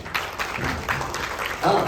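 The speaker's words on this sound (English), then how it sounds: "here's a big round of applause please" Steady clapping from a crowd fills the whole moment, dense and continuous with no pauses.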